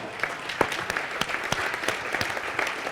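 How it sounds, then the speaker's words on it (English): A crowd claps at the Festa del Barolo 2024 wine celebration. The applause is moderate and continuous, with distinct sharper individual claps standing out through the wash and no talking on top. "Let's make a big applause to them even more."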